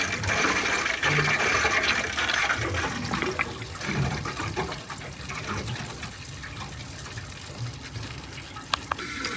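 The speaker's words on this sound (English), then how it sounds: "I can still hear big airlocks coming out. So yeah, still loads of air coming out." Water and trapped air spurt and gurgle from a hose while a Viessmann heating system is vented, a rushing, bubbling flow with occasional sharp clicks.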